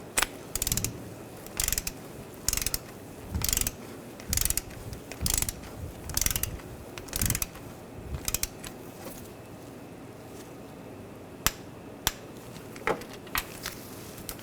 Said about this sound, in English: Tighten this down. We'll torque this to 66 inch-pounds.